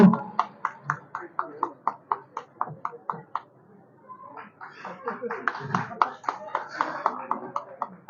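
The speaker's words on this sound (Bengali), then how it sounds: "একবার জোরে হাততালি হয়ে যাক এই মানুষটার জন্য।" Audience applause at a 2025 Durga Puja banner launch for Alipore 78 Pally comes as a run of evenly spaced claps, then a brief pause, then fuller clapping mixed with a voice talking.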